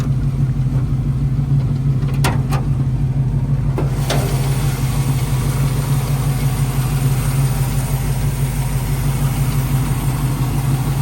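A 1974 Plymouth Barracuda restomod with a big motor idles close by, a loud, steady low rumble throughout, with a couple of brief clicks early on.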